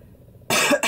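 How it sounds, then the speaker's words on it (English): A single short, harsh cough bursts out after a moment of near silence, close and loud. "this cough needs to go away."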